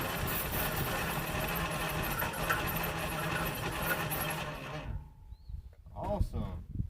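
An abandoned 1950 Mercury engine that had sat for over 35 years runs with a rough, loud rumble for about five seconds, then drops away to a faint idle as a person's voice comes through.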